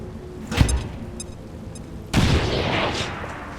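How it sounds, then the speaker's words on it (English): A grenade blast in XCOM Long War of the Chosen: a sharp thump early on, then a louder booming explosion with a lingering rumbling tail, set against quiet game ambience. "I am throwing a grenade!"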